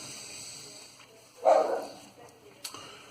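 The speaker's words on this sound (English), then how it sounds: "You have to excuse the dog barking, he's seeing somebody off." A friendly dog barking outdoors, a single fairly close bark burst followed by a softer short yip, over quiet background.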